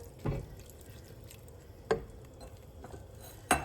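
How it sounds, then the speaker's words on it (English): Raisins being stirred into fruit cake batter, three distinct soft wet knocks of a spoon against the bowl spaced over a few seconds, fairly quiet. "So we want to add all the raisins to this and stir it, give it a stir."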